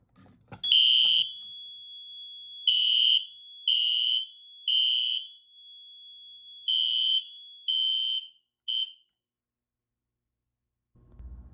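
A loud, shrill electronic alarm tone from a Notifier SFP-400B fire alarm panel blares in repeated bursts of uneven length, then stops, leaving silence with a faint rumble at the end.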